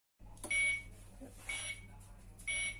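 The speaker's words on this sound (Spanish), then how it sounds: "ya he emitido los tres pitidos que ya hace cuando se calienta" A deep fryer heating oil for cooking rabbit with garlic gives three evenly spaced electronic beeps about a second apart, fairly clear over a faint kitchen hum.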